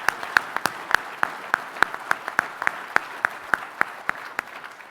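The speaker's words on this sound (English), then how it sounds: "maybe I could ask for one more round of applause for our terrific panel and moderator." Applause for a panel and moderator at a Canadian Club business outlook event: distinct, evenly spaced claps ring out close and sharp over a quiet room, with no talking.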